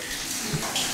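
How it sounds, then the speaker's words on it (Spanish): A shower runs steadily nearby, a continuous broadband hiss of falling water that holds a constant level without pauses and has no voices over it. "Alex, por favor, Alex, necesito que salgas ya de la ducha"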